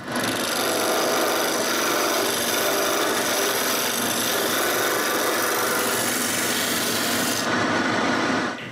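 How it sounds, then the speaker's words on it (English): Stacked wooden rings spin on a lathe while a tool cuts them, a continuous loud rasping, scraping whir that runs steadily for several seconds before easing off at the end. "I can put that on the lathe and turn all the rings at the same time"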